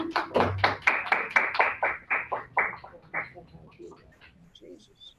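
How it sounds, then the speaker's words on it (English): Meeting participants clap for themselves, a small group producing distinct rhythmic claps that start loud and close, then thin out and fade over several seconds. "let's give ourselves a round of applause"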